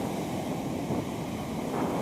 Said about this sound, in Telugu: చూశారు కదా సముద్రం ఎంత పెద్దగా వస్తున్నాయి అలలు